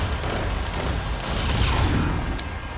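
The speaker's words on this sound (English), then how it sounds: "We need to use this bombardment system right now." Orbital bombardment strike in the sci-fi shooter Call of Duty: Infinite Warfare, a dense continuous roar of rapid blasts and gunfire rumbling at steady high volume throughout with no break.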